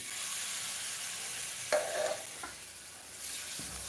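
Gram flour pudla fries in hot oil with a steady, close sizzle, broken by a few brief scraping stirs of a spatula, and no one speaks.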